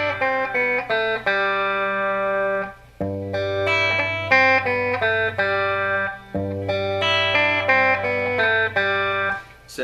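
Electric guitar playing a riff, a repeating pattern of plucked single notes and open strings over a sustained low drone, clear and close with light effects, cycling three times.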